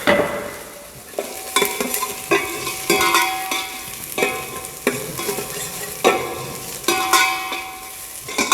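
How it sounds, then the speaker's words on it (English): Finely chopped mirepoix browning in oil in a stock pot for a classic French mother sauce, with a steady sizzle and frying crackle broken by repeated scraping stirs of a utensil, close and loud with no talking. "we brown this mirpua"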